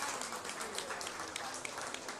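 Applause from an audience around a goat show ring at the Preston County Buckwheat Festival, a steady wash of clapping held at a moderate level for the whole stretch, without any talking.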